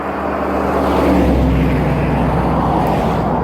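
A car passes along a street in Litchfield, Minnesota, a steady broad rumble that swells slightly and holds close by for the whole stretch, with no talking over it.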